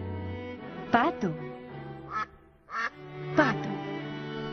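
A handful of nasal quacks come in short bursts, close and fairly loud, with brief gaps; a voice may be imitating the duck.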